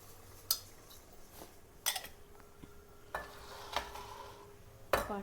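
Ghee is stirred into a pot of three-quarters-cooked biryani, with a spoon knocking and scraping against the pot in several sharp, irregular clinks over a faint, quiet sizzle and no talking.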